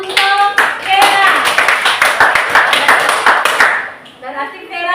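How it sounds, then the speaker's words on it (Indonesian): Classroom applause for a student who answered a history question correctly, a dense burst of children clapping over chatter and cheering voices, loud and close, thinning briefly near the end before voices pick up again. "Kita kasih tepuk tangan untuk Vera."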